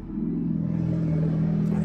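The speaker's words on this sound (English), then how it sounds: "I don't know if you can hear that motorcycle" A motorcycle engine drones steadily nearby with a low rumbling hum, holding a fairly even level as it passes.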